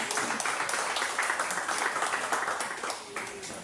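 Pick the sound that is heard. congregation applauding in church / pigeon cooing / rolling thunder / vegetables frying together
congregation applauding in church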